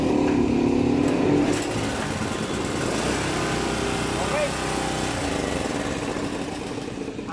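A portable generator engine runs steadily at a loud, constant drone throughout, with a person talking over it.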